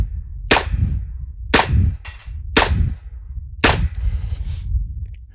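Four sharp, loud shots from a Smith & Wesson 686 revolver fired double action, spaced roughly a second apart, each a crisp crack followed by a short ringing decay outdoors, with no talking.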